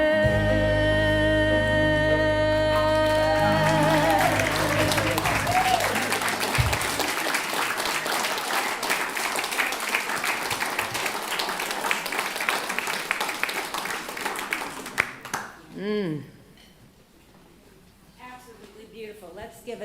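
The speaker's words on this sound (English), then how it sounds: "another round of applause for Sharon and her beautiful presence and her beautiful voice this morning" Church congregation applauding a singer at a Sunday service, the clapping rising over the last sung notes and holding steady for about fifteen seconds before thinning and fading, with a brief voice near the end.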